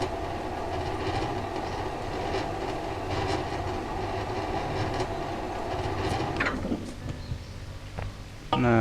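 Train rolling along in the physics puzzle game Human Fall Flat, a steady rumbling clatter of wheels on rails that continues loud throughout, then shifts and thins near the end as it passes.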